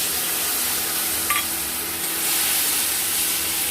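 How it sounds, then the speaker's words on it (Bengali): Spices sauté in oil in a pan for a fish kofta curry, giving a steady, loud, close sizzle and hiss throughout with a brief stir clatter midway, no talk. "এটাকে আমরা ভালো মতো করে কষবো। যতক্ষণ না মশলা থেকে তেল ছাড়ছে ততক্ষণ আমরা এটাকে কষতে থাকবো।"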